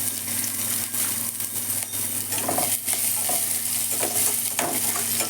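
Thinly sliced large onions with cumin frying in a pan, a steady close sizzle with occasional soft spoon strokes stirring through them over a constant low hum.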